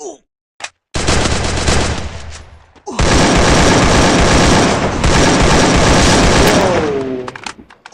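Loud gunfire from the battle royale game Free Fire, heard in a solo tournament match: after a couple of isolated clicks, sustained automatic bursts blast for several seconds, pause briefly, then resume heavily before cutting off.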